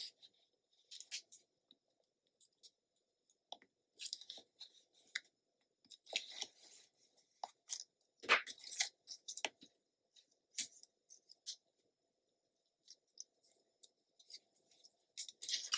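Adhesive tape for scrapbooking a winter mini album cover is handled in quiet, intermittent bursts of crinkling, peeling and rubbing, close and soft, with pauses between the movements.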